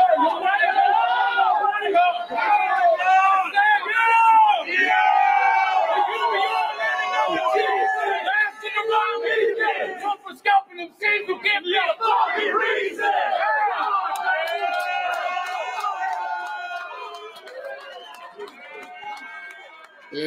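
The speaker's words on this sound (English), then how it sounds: "The crowd is real fun." A crowd at a freestyle rap battle cheers and shouts loudly and continuously, with rowdy yells and babble surging together for the whole stretch before easing off near the end.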